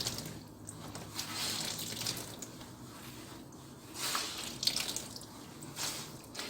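Water trickles and drips softly, close by, as a wet spandex zentai suit is squeezed very gently by hand. A few splashy bursts rise and fall over a quiet background.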